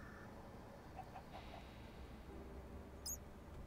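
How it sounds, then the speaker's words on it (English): Chicken clucking underground in the Minecraft mod TerraFirmaCraft, faint and distant over a low ambient hum, with a few soft clucks and a brief higher chirp near the end. "There's a chicken down here as well."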